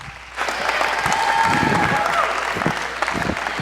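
Audience at a university talk applauds as a speaker is introduced, a steady wash of crowd clapping from start to finish, with a faint tone running through the middle.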